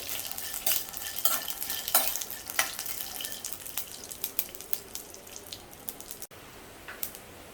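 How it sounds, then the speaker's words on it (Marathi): Peanuts roasting in a pan and being stirred, giving a steady scraping, sizzling texture with repeated bright scrapes that gradually soften, close by and with no voices. "शेंगदाणे थोडे भाजले की मग आपण यामध्ये खोबरं घालणार आहोत।"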